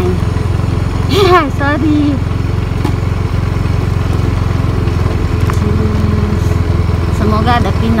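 Motorcycle engine droning steadily while ridden one-handed along a road near Timika, Papua, continuous close rumble throughout, with a voice briefly talking over it.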